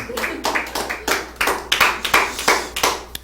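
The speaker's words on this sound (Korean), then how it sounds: "박수 한번 보내겠습니다." Rhythmic hand clapping, a steady series of about a dozen sharp claps from a small group, close and moderately loud.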